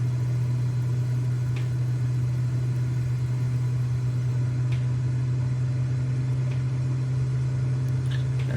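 A Cessna 206 engine in a flight simulator game drones at takeoff power, a steady low hum that holds evenly without any talk.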